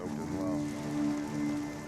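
Rain falls steadily on a beach during a stormy survival ordeal, a constant wet hiss with spoken narration running over it throughout.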